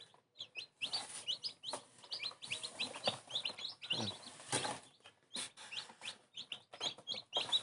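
Newly hatched chicks from an incubator peep and cheep in rapid, high, overlapping bursts, close and lively, with a few brief soft rustles among them.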